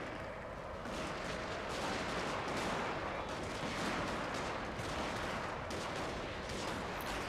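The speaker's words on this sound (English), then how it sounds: "Come on, open fire." Massed musket and rifle volleys crackle during a battle in the strategy game Shogun 2: Fall of the Samurai, a dense, continuous rattle of overlapping shots with booming rumbles that holds steady throughout.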